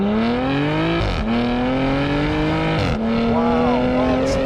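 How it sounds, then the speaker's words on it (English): A Porsche Macan GTS accelerating hard through its gears, the exhaust note rising in pitch with two brief dips at upshifts, loud and close throughout. "listen to the exhaust note."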